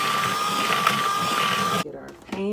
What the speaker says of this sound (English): Now we're going to go ahead and whip all this.